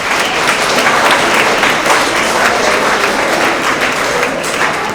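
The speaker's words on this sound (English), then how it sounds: "Let's give them a big round of applause." Steady, loud applause from an audience at a spring school award assembly for grades six through eight, dense and continuous throughout with no gaps.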